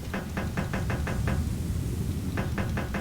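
A front door is knocked on in Metal Gear Solid: a quick run of about seven sharp raps, a pause, then four more, loud and close with no talk.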